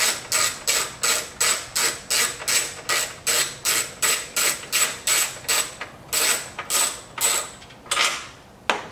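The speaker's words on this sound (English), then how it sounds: "Okay, so we're going to pull these two 40 Torx out of here." A hand ratchet backs out T40 Torx bolts on a C8 Corvette, giving a close, steady run of rapid clicking bursts in even strokes, then a few slower, spaced clicks at the end.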